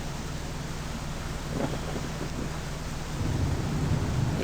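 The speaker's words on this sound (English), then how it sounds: "It's definitely stormy out here." Thunder rumbles in a stormy sea setting in the Deadliest Catch video game, low rolling booms rising twice over a constant bed of wind and rain noise; no speech.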